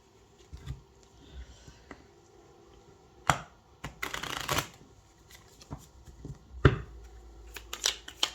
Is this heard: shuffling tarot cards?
yes